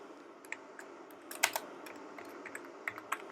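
Quiet clicking of a computer keyboard while Java code is typed, light irregular keystrokes with a brief quick cluster in the middle, close and soft with no talking.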